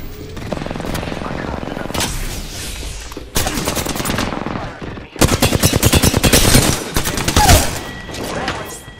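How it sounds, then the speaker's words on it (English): Heavy automatic gunfire in the Apex Legends battle royale shooter, with dense rapid bursts that build from a steady rattle into loud, sustained volleys, close and dominant with no talk over it. "I shot the enemy."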